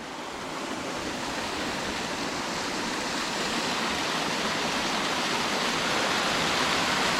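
Water rushes through an old mine near Texeo in Asturias, a constant loud hissing flow that swells slightly over time, with no voices.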